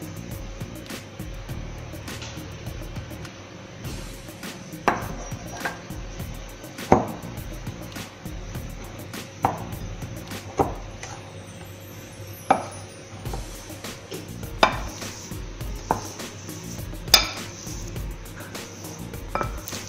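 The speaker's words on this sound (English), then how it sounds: "Now keep mixing it until all the cocoa is blended into the dough mixture" Cocoa being mixed into cookie dough for chocolate pinwheel cookies, heard as soft steady stirring with sharp clacks and taps of a utensil against the bowl every couple of seconds, fairly quiet throughout.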